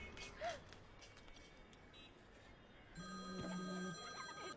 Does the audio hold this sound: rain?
no